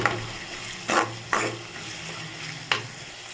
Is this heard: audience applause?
no